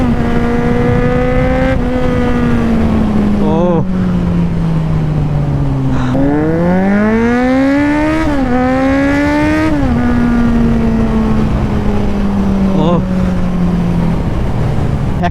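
A powerful motorcycle engine revs loudly and continuously on a road ride, its pitch sliding down and surging back up through repeated throttle changes and gear shifts, close and dominant.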